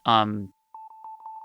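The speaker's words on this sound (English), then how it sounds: "Literally just a sine wave with a filter on it." A short vocal burst gives way to a pure, steady synthesized sine wave run through a filter, pulsing on and off in uneven bursts.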